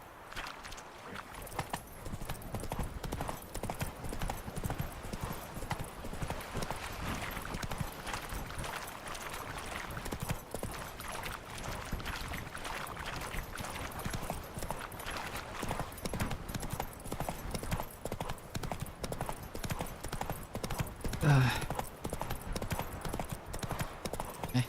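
Horse hooves gallop in a rapid, steady clip-clop rhythm for the whole stretch in the video game The Witcher 3, quiet and continuous with no voices.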